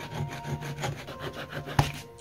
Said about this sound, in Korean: 줄을 이용하여 거친 면을 부드럽게 다듬어줍니다.